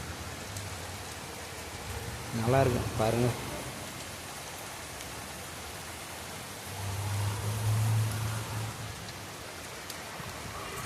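Rain falls steadily outdoors as a soft, even hiss throughout, while someone speaks briefly over it and a low vehicle-like rumble passes in the background.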